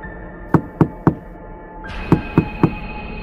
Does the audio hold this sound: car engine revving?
no